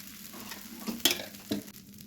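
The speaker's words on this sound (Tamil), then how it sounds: "இப்போ தோசை ஊற்றிக்கிறலாங்க. கல் சூடாயிருச்சு." Dosa batter poured onto a hot stone griddle, giving a soft close sizzle with a couple of sharp splattering bursts and light utensil scrapes.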